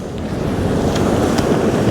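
Wind buffets the microphone over rough, slapping water as an X-Yachts XR41 sailboat heads upwind, a constant roar of choppy waves with no voices.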